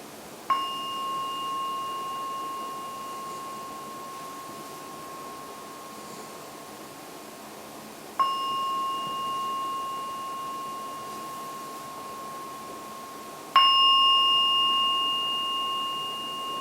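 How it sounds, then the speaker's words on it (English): A meditation gong rings three separate times, each a clear bright strike with a long sustained, slowly fading tone, spaced several seconds apart in a quiet room with no talk. "after the 3rd ringing of the gong, it's time to open the eyes and come out from the meditation"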